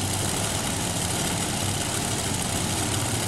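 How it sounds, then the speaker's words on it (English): A modified pulling tractor idles on the line at the 1995 NFMS Modified Tractor Pulling event in Louisville, Kentucky, giving a loud, steady, close engine rumble with no breaks or talking. "He comes to us tonight with his final effort tractor"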